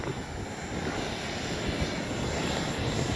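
A loud, steady roar of an FMS 80mm F-86 RC model jet sweeps past close overhead, with a high whine riding on top throughout.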